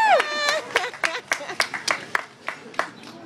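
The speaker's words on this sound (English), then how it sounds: "You can applaud." A zoo audience at a children's story reading claps in a scattered burst, sharp individual claps spaced irregularly and thinning out, with a short voiced sound at the very start.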